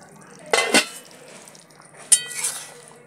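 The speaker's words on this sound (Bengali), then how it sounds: "ঢাকাটা খুলছি বন্ধুরা" A metal lid comes off a pot of gule fish curry on a gas stove, giving two bright clinking, rattling bursts of metal on metal with a quiet background between them.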